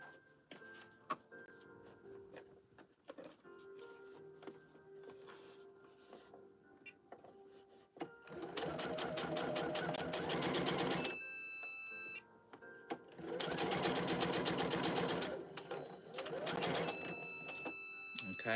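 A sewing machine runs in two long bursts while finishing the last few stitches of a McCall's 8313 garment, with quieter handling and some talk in the pauses between the runs.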